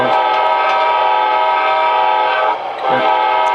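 A steady rumbling locomotive drone with a bright whistle-like tone from an HO scale Athearn Amtrak Genesis model train's DCC speaker, loud and continuous, with a brief dip near the end.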